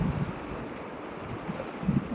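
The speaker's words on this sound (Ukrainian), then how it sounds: "Знову вибачають за якість звуку, ну що зробиш? Вітер." Steady wind blowing with buffeting gusts against the microphone at the seaport of Senigallia, Italy, a low constant rush with faint water movement beneath, no voices.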